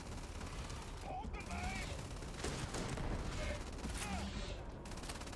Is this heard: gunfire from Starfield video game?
yes